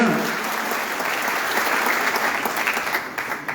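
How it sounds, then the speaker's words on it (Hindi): An audience at a farmers' rally claps loudly and steadily in honour of the farmers, a dense sustained applause with no speech. "एक बार जोरदार ताली उन किसानों के लिए बजाएं"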